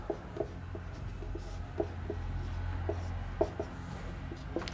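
A teacher writes a principal formula on a board, faint scratchy strokes and light taps coming in short irregular bursts over a low steady room hum, with no talking.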